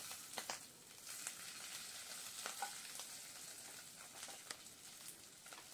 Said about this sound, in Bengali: এই তেলটার মধ্যেই এই আলুগুলো ভেজে নেব।